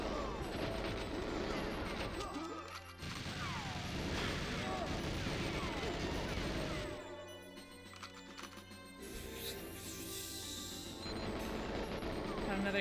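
Automated gun turret in GoldenEye 007 firing in rapid sustained bursts, dense and loud, with game music and effects layered underneath and brief pauses between volleys.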